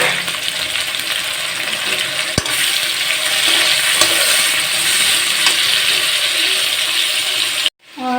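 Onions fry in a pan for a dry potato curry, making a loud, continuous sizzle with a few sharp clicks of utensils, until the sound cuts off abruptly just before the end.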